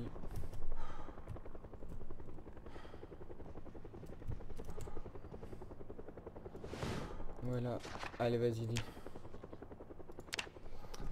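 A helicopter in the video game Project Zomboid drones steadily throughout, with scattered gunfire cracks and bursts, while a voice speaks over the top.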